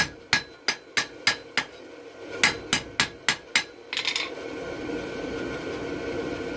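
Sharp, ringing hammer blows on hot metal straighten a forged bottle opener, two close runs of five or six evenly spaced strikes separated by a short pause, then a steady hiss-like rush of background noise.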